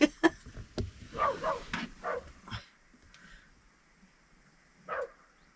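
A small, muscular dog plays with other dogs, giving sharp barks and yips in quick bursts at the start, then excited whines, a quiet lull, and one more short yelp near the end.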